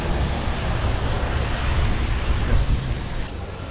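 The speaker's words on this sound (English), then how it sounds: "at Transmaldivian Airways, which is the seaplane." A Trans Maldivian Airways seaplane drones steadily with a broad engine rumble mixed with wind, continuous and fairly loud for a few seconds with no one talking.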